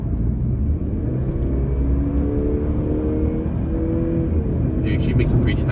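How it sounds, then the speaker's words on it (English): A 2-litre Mercedes-Benz CLE Cabriolet engine pulls steadily under acceleration, a continuous near rumble with rising harmonic tones throughout, while a person talks over it. "it actually makes a pretty nice sound, and it actually really goes"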